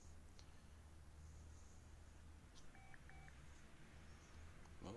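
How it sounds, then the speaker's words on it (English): A phone rings inside the video game Car Mechanic Simulator 2018, a short electronic two-tone trill repeating quickly in the middle of a steady low background hum, fairly faint and heard with no talking. "I heard the phone go off."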